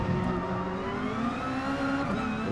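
Race car engine at the Red Bull Ring in GT Sport, a steady mid-distance drone with gently rising pitch as the car accelerates, heard alone without talk.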